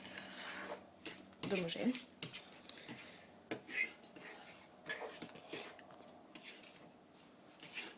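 Fork scraping and clinking against a bowl while cookie dough is stirred by hand, irregular taps and rubs of metal on the dish, fairly close, with a voice speaking over parts of it.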